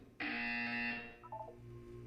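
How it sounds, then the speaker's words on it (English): A loud electronic buzzer from the Portal 2 video game blares as one sustained harsh tone for about a second, then fades into softer chirping electronic beeps over a low hum. "You will hear a buzzer."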